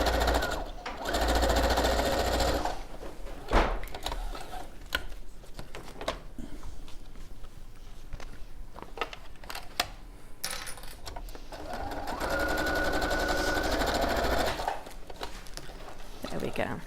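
A sewing machine stitches fabric and runs a reverse stitch, a close, loud mechanical whirring that starts and stops in bursts, louder near the beginning and the end, with people talking quietly through the quieter middle stretch.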